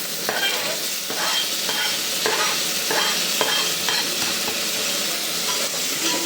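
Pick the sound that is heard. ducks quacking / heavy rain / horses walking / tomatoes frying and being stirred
tomatoes frying and being stirred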